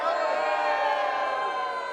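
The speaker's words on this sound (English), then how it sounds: "I want to hear some booing and some yelling" Protest crowd at the Texas Capitol booing and yelling: a dense, continuous roar of many distant voices, steady and unbroken throughout.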